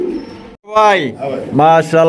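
Large Bombay pigeons cooing in a bird market, throaty bursts heard up close. A voice is loud throughout and partly covers the birds.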